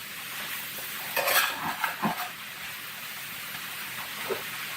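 Mushrooms sauté in a pan over a soft, constant sizzle. Brief scraping and stirring clatters rise in the middle, then fade back to the quiet hiss.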